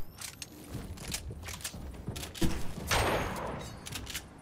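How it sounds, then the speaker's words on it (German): Fortnite gunfire: a series of sharp, sparse shots and short bursts cracking out irregularly, fairly close, with a heavier blast near the middle and softer shots scattered around it, no talk. "Von oben werde ich noch angeschossen."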